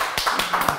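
A small audience at a French panel discussion on work and employee experience applauds the guests, a brief, modest patter of claps at moderate distance with no voices over it.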